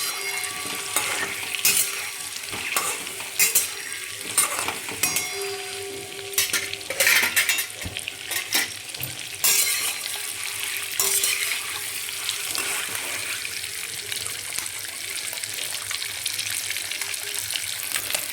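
Eggs fry in a pan for a dhaba-style egg curry, a loud bubbling sizzle broken by repeated clinks and scrapes of a metal spoon against the pan, no voices over it.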